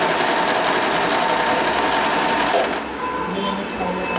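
A sewing machine runs fast and close, stitching cloth for a small deity dress, a dense steady whir that eases into a lighter, slower hum for the last second.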